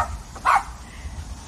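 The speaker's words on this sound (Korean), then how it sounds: "푸들이 막 짖어요." A poodle gives a single short bark near the middle, fairly close, against a quiet indoor background.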